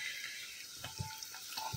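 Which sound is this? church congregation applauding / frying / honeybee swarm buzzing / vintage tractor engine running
frying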